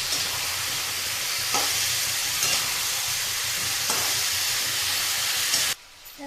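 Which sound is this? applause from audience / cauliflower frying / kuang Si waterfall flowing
cauliflower frying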